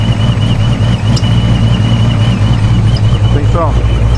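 A thin high squeal rides above the deep, loud, steady idle of a 426 HEMI V8, a faint slipping squeak under the engine rumble, with a voice briefly heard near the end.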